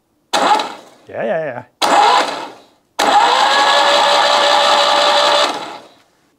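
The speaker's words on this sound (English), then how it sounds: "Oh yeah, and the starter seems to work." Starter motor on a Citroën Mehari/2CV cranks the engine in a steady, loud whirring run of about two and a half seconds, after brief talk and a short mechanical burst; close and alone at the end.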